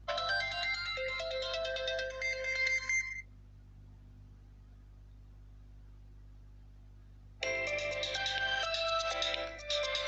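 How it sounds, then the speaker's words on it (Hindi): A bright electronic ringtone melody plays from the built-in speaker of a Tecno Spark 6 smartphone, pauses for several seconds, then starts again. "तो यहाँ से आ जाते हैं रिंगटोन्स में।"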